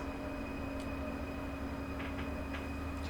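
An ICE 1 high-speed train runs in the Train Sim World 6 video game, heard as a constant droning rumble with steady electrical whine and a few faint clicks, with no voices.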